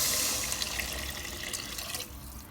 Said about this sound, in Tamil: தண்ணி சேர்த்துச்சு கலந்துட்டுக்கிறேன்